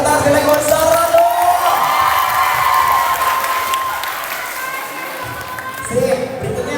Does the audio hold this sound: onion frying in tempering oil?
no